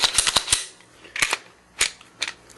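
Sharp dry-fire clicks from an empty Glock 19 9mm subcompact handgun, a quick cluster of three or four crisp snaps followed by a few more spaced clicks, close and loud with no talk.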